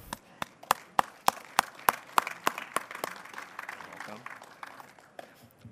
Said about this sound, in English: Please give a round of applause for Brian Iske.